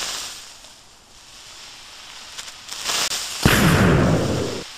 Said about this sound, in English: That was one big explosion.